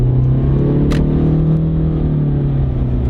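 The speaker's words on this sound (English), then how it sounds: "give it a little gas." Inside a car with a CVT transmission, the engine drones at a steady, held pitch as it pulls away under light throttle, a loud continuous rumble with little change in tone and no talking.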